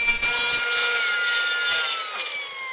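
A handsaw cuts notches into wood shelving, a loud, close, steady rasping stroke with a bright, gritty edge and no talk.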